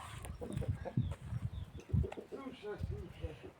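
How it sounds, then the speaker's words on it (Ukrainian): Hens wander a windy spring garden among blossoming cherry trees, giving a few soft, quiet clucks that blend with a person talking nearby. "Кури гуляють у моєму садочку"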